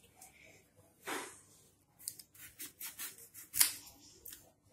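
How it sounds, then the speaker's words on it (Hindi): A knife cuts off the ends of a bottle gourd (lauki), giving a brief crunchy slice followed by a series of short quiet cutting and rubbing sounds and one sharp click, all close and soft. "तो सबसे पहले हम दुधी के दोनों पॉइंट को काट देंगे।"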